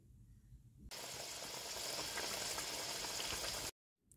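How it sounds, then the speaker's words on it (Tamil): Jackfruit seed vada sizzle in hot oil, a loud, dense crackling hiss that starts abruptly after a quiet moment and stops suddenly near the end. "சூடான எண்ணெயில் சேர்த்து மிதமான தீயில் வேக வைத்து ரெண்டு பக்கமும்"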